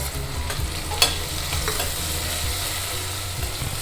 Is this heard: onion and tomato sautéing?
yes